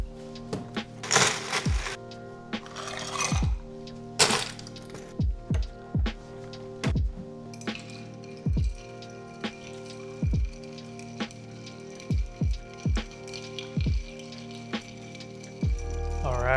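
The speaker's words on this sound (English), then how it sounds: "go ahead and grab some ice and we're gonna give this a stir for about 30 seconds" Ice cubes stirred in a mixing glass for a Vesper martini, giving a series of crisp clinks and cracks at an uneven, spoon-driven rhythm, close and fairly quiet.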